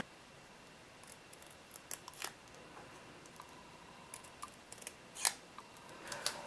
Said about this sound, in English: So I don't need this much cardstock around the word mother. So I'm gonna go ahead and trim it.